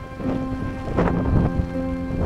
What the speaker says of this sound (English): The wind is huge and the rain is not stopping.